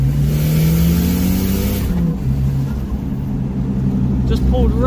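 A 2G Eclipse GSX with a 16G turbo accelerates hard, engine note climbing loud and close through the rev range, then dropping at a shift and pulling again.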